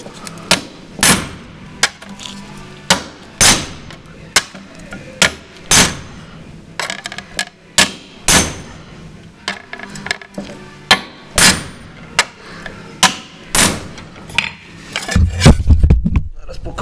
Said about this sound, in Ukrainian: беремо кусок железяки і йдемо лупити